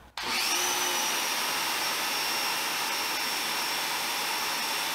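Greenworks 1700 electric pressure washer starting and spraying through its stock nozzle, a sudden surge into a loud, steady hissing whine that holds unbroken up close, with no voices.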